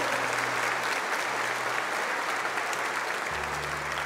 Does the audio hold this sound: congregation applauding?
yes